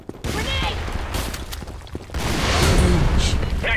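A grenade blast in the online shooter Sudden Attack 2 on the A Supply Base map, a loud, heavy boom thick with rattling gunfire that swells in the second half, with game voices mixed in.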